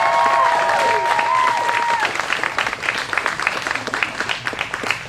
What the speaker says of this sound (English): Y'all give him a round of applause for the seniors.